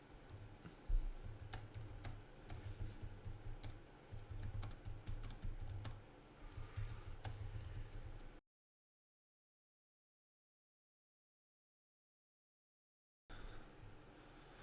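Typing on a computer keyboard into a chat window, quick irregular clicking keystrokes close up for about eight seconds, then complete silence, then a brief return of faint clatter.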